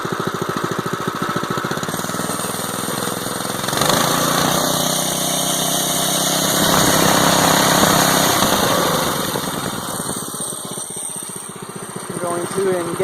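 A small Predator 212 engine on a small tractor runs close by with a steady mechanical rattle, rising and falling as it revs, while someone speaks over it.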